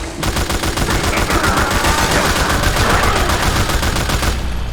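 Sustained, loud automatic gunfire in Metal Gear Solid 4: Guns of the Patriots, rapid rhythmic bursts running continuously for nearly five seconds over dense game battle noise, with no talking.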